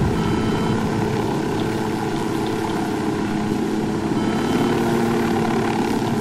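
A damaged helicopter flying in the video game Ghost Recon Wildlands, its steady rotor and engine drone running loud and unbroken throughout with no talk over it.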